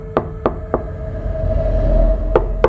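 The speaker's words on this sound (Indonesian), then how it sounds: "Tidak lama terdengar orang menggedor-gedor pintu" Someone impatiently pounding on a toilet door: sharp, close thumps, three in a row, a pause over a low rumbling hum, then two more blows.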